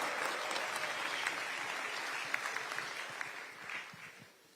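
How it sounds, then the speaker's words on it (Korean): Audience at a party leadership meeting in Suwon, Gyeonggi Province applauds to welcome visitors; sustained, dense clapping from a large crowd that fades out toward the end. "큰 박수로 한번 환영해 주시면"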